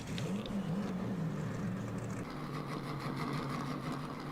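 A vehicle engine in Farming Simulator 19 hums steadily and low, holding a continuous drone without clear revving peaks throughout.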